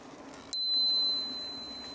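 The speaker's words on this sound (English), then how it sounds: "Tinkle of the bell." Single bright ding of a bicycle bell on a trail ride, sharp strike then a ringing tone that slowly decays, with quiet riding noise beneath.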